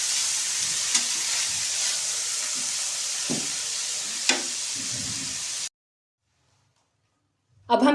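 Chicken frying on a stove as a pizza topping, a loud steady sizzle with a few stirring clinks that cuts off abruptly into silence before a brief noise returns at the end.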